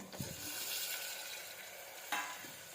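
Tomato with turmeric frying in a pan for moong dal khichdi makes a faint, steady hiss, with a couple of brief stirring scrapes near the start and end.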